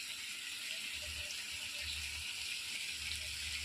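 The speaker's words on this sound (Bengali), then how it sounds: "এবার আমি জল ঢেলে দেবো।" Water is poured into a cooking pan of softened potato stems fried with poppy seed and mustard paste, producing a continuous bright, hissing rush that stays level throughout.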